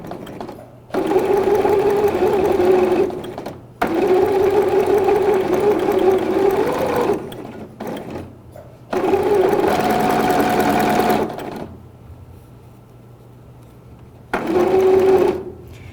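Sewing machine stitching around the curve of a bib, running in four loud, steady bursts of a few seconds each, separated by short pauses with quiet handling.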